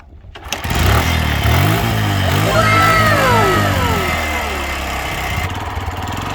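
A CNG-fuelled motorcycle engine sputters to life and revs up, rising in pitch, then settles into a loud, steady idle close by.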